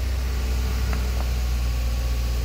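A car engine idles steadily right after a cold start: a constant low hum with a faint higher whine and two tiny clicks, with no talking.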